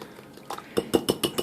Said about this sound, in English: we're going to mix it up together